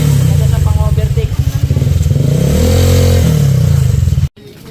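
Honda Click 125i v3 scooter with a CVT setup revving hard under acceleration for an overtake, a loud, close engine drone rising in pitch before cutting off abruptly near the end.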